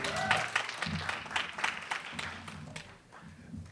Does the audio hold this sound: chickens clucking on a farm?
no